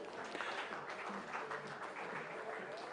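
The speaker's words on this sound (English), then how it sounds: "So big round of applause to Mr." An audience applauds at an HR and TPO conclave with a dense, even wash of clapping across a short stretch, fairly soft and continuous.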